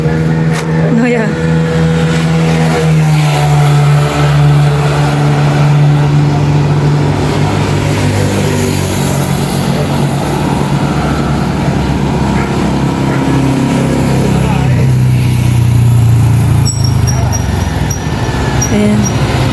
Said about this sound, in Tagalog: May paparating po na sasakyan.